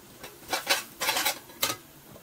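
Pork knuckle being stir-fried in a pan, a few quick metallic scrapes and clinks of a utensil against the pan in short bursts, close and moderately loud with no talk.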